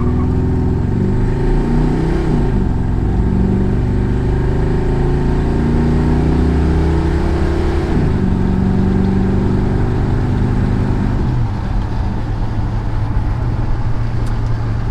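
A car with a Quadrajet carburetor launching hard in a 0-60 run, with its engine roaring loud and close through rising revs and clear shifts partway through, plus brief tire spin at the start.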